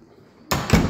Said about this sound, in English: And wait for the door to shut.